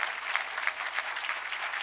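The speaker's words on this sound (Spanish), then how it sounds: "un fuerte aplauso a la jefa de gobierno" Steady audience applause for the head of government at a public event in Iztapalapa, a dense continuous patter of many hands clapping at moderate loudness, with no talk over it.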